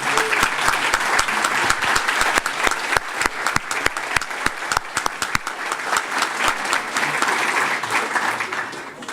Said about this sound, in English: please stand and be recognized, and let's give them a round of applause too